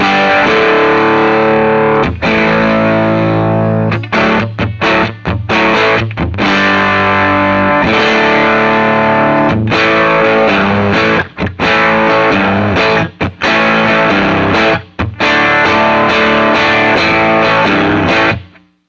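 Electric guitar played through a Lollygagger FX Canaglia overdrive pedal, loud and saturated with a warm tube-amp-like crunch, ringing chords and riffs broken by brief stops, no talking.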